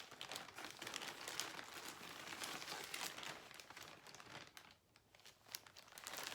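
Light gray fabric is handled and crinkled close by, a continuous dry rustling and crackling that dips briefly before picking up again.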